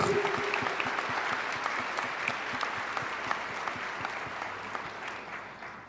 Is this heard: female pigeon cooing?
no